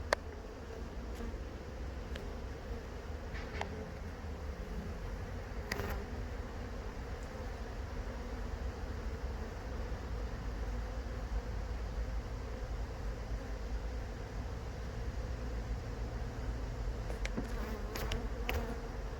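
Honey bees buzz around an open beehive during a hive inspection, a dense, steady drone close by that carries on without a break, with a few sharp knocks from handling the hive.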